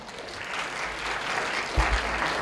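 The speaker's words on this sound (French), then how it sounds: "on les applaudit une dernière fois" Applause from an audience, a dense steady clatter of many hands clapping throughout, swelling slightly near the end.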